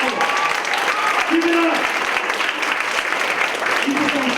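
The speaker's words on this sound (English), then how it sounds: "I hope we can give a huge round of applause to every single comic you saw this evening" Sustained audience applause for comedians at the end of a stand-up comedy show, a dense steady roar of many hands clapping close by, with a few brief voices breaking through.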